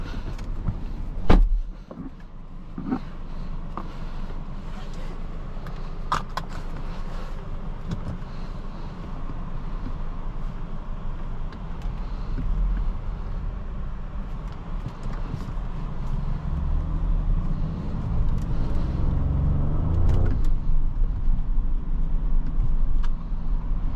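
Cabin hum of a 2021 Audi S7 driving on the road heard from inside, a low steady rumble with a few early clicks and thumps, the engine note swelling gradually toward the end.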